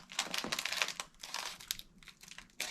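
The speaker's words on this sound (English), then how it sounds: "Let's open the first one. Always, as you know, you gotta be careful with this scissors." Scissors snip and crinkle through a LEGO Marvel minifigure plastic pack, giving dense, close crackling and rustling in uneven bursts with short pauses.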